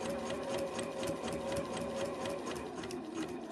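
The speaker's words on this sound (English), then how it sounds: "Slowly does it around those curves, and you can just lift your presser foot, making sure that your needle is down" A sewing machine stitches fabric for a stocking advent garland, its needle running in a fast, even mechanical whir, close and continuous, with no voices over it.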